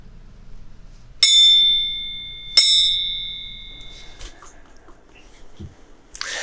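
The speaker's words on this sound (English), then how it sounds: "Now, I'll ring the bell twice" A bell is struck twice at a virtual annual meeting, about a second and a half apart; each strike is a bright, loud ping with a ringing tone that fades slowly, followed by quiet rustling.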